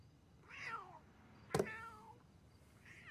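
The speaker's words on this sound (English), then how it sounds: "I think your cat wants to come in." A cat meowing from outside, wanting to come in, with three distinct meows spaced apart, the middle one louder and sharper, heard faintly at a distance.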